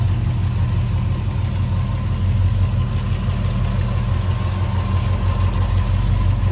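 A 1956 Mercury Montclair two-door hardtop's 312 V8, fitted with an aluminum radiator and a 12-volt system, idles smoothly and steadily, with a low, even rumble running close and constant throughout.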